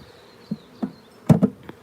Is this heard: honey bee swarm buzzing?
yes